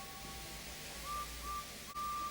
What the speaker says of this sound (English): Just then the conductor blew his whistle and James thought they had better go.